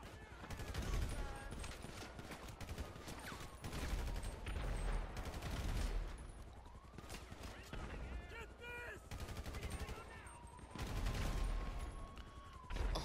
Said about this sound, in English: Are you guys like really shooting at me?